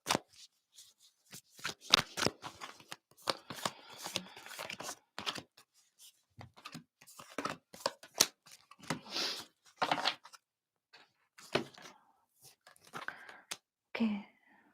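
Tarot cards being pulled and shuffled by hand, with intermittent soft riffles, slides and snaps in irregular bursts separated by short silences, close and fairly quiet.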